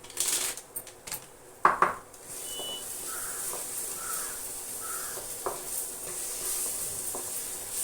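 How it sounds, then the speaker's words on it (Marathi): Turmeric, coriander powder and garam masala sauté in a pan over a low flame: a few sharp clatters open, then a soft, even frying hiss carries on with an occasional light tap. "आता हे छान परतून घ्यायचंय गॅस मोठा नाही करायचा बारीकच ठेवायचे"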